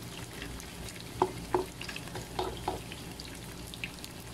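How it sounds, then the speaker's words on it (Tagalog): Kikiam fish balls fry in a pan after onions, giving a quiet, continuous sizzle broken by a few sharper pops and stirring clicks. "Pagkatapos ng sibuyas, isunod na natin yung ating kikiam para maluto natin siya."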